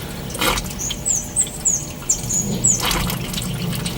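Water drips and patters from a leaking radiator on a Mitsubishi L300 4D56 van, a few close, soft splashy drops amid quiet ambient noise.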